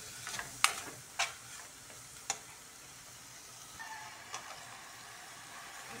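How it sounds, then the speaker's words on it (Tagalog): Mung beans are sautéed with mushroom and alugbati in a pan, a faint steady sizzle broken by a few sharp clicks and taps of a utensil stirring against the pan. "Gigisa natin itong munggo. Lalagyan natin ng mushroom yan,"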